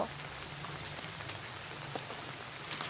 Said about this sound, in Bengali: বৃষ্টি পড়ে